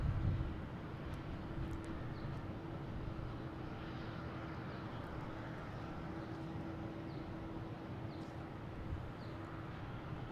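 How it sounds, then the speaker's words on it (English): Delta Embraer E175 arriving from Savannah, a faint distant jet rumble with a low steady drone, heard alone at low level. "Next to arrive, we have a Delta coming in from Savannah, E175,"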